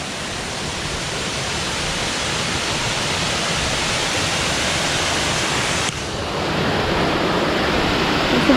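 Upper Mingo Falls in Cherokee, North Carolina, a waterfall whose steady, dense roar of rushing water carries on loudly and unbroken throughout, close by, with a brief dip near the end.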